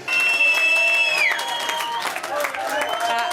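A crowd applauds and cheers inside the famous Cavern Club music venue, a dense steady wash of clapping with whistles and tonal sounds layered over it, loud and sustained throughout.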